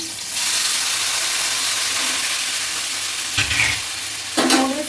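Noodles hit a hot frying pan with a loud, dense sizzle that holds steady, with a couple of sharp scrapes and clanks as they are stirred in.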